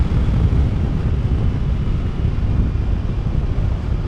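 Wind roars steadily against the rider at motorway speed on a BMW F 450 GS adventure motorcycle, a constant broad buffeting rush with no speech.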